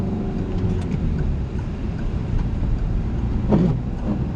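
A car accelerates during a driving lesson, its engine humming steadily under road and cabin noise, with a brief swell of rumble toward the end.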